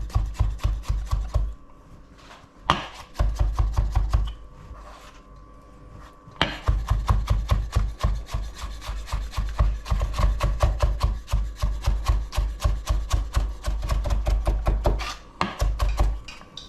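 A knife slices through a cucumber on a cutting board in a home kitchen, making rapid, evenly spaced close chops that pause briefly and then resume in long steady runs.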